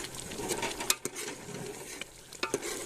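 Ghee made from raw milk simmers in a pan while it is stirred constantly, a continuous soft sizzle broken by several crisp spoon scrapes and taps against the pan.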